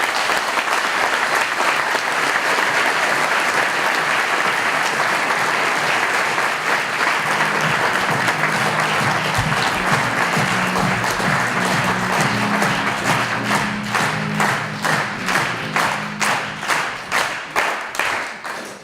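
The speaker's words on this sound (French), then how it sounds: "Je vous demande d'applaudir Jean-Bernard Falco." An evening event audience gives loud, sustained applause for Jean-Bernard Falco, first a dense wash of clapping that gradually settles into slower, more distinct individual claps toward the end, with a faint hum of voices beneath.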